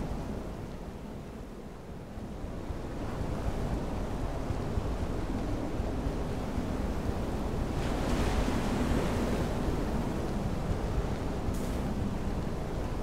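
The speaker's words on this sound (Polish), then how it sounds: "Znów fale." Ocean waves from the FAR: Changing Tides video game wash in a steady, loud, continuous surf roar with wind-like hiss, swelling slightly midway and carrying on without pause.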